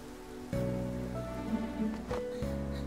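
Rain in the video game Persona 5 falls as a steady, even hiss under looping game music with sustained tones. There is no talking.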